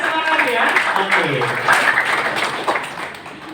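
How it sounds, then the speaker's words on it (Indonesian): Seminar audience at a motivational talk breaking into applause, a dense wash of clapping hands that swells and fades over a few seconds, mixed with scattered voices and chatter. "Tepuk tangan dulu ya, biar semangat ya."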